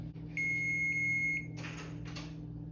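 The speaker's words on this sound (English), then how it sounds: "the timer's gone off" A kitchen timer beeps with one steady high tone lasting about a second over a constant low hum, followed by two short bursts of hiss or clatter.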